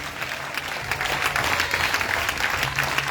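Congregation applauding during a French-language church worship service, a steady wash of clapping that swells slightly and continues throughout without spoken words.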